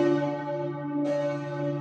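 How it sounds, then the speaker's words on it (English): A church bell in Freiburg rings loud and steady with a sustained, resonant tone, and a fresh strike lands about halfway through over the lingering hum. "Inside the church, we met a disappointed bell ringer."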